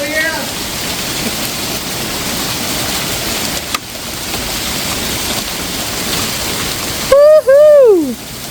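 A hailstorm on New Year's Eve makes a loud, dense, continuous patter and rattle on surfaces, with a short excited whoop from a voice near the end.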